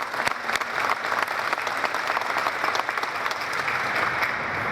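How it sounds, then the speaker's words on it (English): A crowd applauds at the opening ceremony of the Mando America plant in Georgia, with steady, full clapping and scattered sharper claps throughout the short stretch. "I would like for you all to please extend to Bruce a round of applause."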